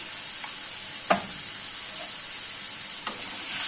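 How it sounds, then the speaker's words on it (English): Moong sprouts stir-fried in a pan give a steady broadband sizzle with a few sharp scrapes of the spatula against the metal, loud and close, with no talking. "Stir, stir, stir. You don't want any moisture coming out."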